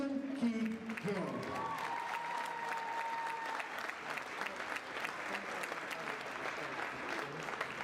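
A gym crowd at a high school boys basketball senior night applauds steadily, with a dense, continuous patter of clapping and some cheering after a brief voice at the start.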